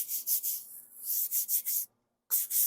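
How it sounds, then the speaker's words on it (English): Fine sandpaper rubs over primer on the body of a 1976 Monarch classic car in quick, rhythmic back-and-forth strokes, close and alone, with a brief pause before the strokes resume. "you can see it's going to sand off pretty fast. And right now I'm using real fine paper."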